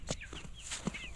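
Backyard chickens in a chicken tractor cluck in short, separate bursts, close by and moderately loud, with a few higher chirps between them and no talking.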